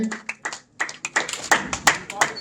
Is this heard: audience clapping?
yes